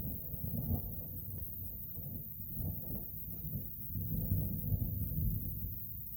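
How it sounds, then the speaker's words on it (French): Low rolling thunder from a thunderstorm with heavy lightning in Alsace rumbles faintly and continuously, swelling in soft irregular waves with no voices over it. "ça commence à tonner de plus en plus fort"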